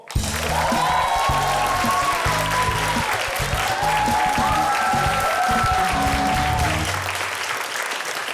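Studio audience at an Ukrainian TV comedy show bursting into loud, sustained applause with some cheering, continuous and dense for about eight seconds before easing slightly at the end.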